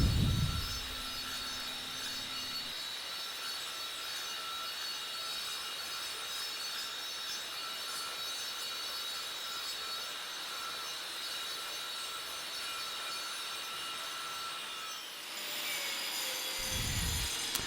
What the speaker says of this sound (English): I'll let this run a little bit and show you the rest of this grinding.